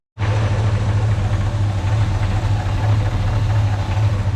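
A 1946 Chevy pickup engine runs steadily at idle with a light tappet rattle from a misadjusted exhaust rocker, a constant low hum and ticking close by with no talking.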